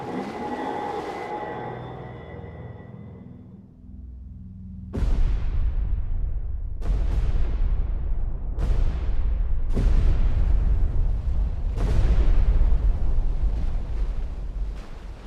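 A series of five heavy depth charge explosions in the naval game Destroyer The U-Boat Hunter, each a deep, booming blast with a long rumbling decay, following a quieter stretch of ambient sea noise.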